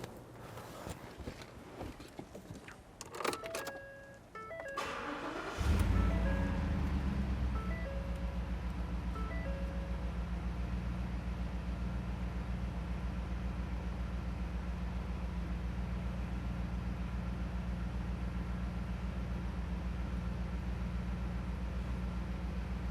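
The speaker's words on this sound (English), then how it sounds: "Sounds like a V8, doesn't it?" A black 2014 Ford Raptor's V8 engine cranks over after some rustling, then catches at about six seconds and settles into a steady, loud, rumbling idle that continues alone through the rest of the clip.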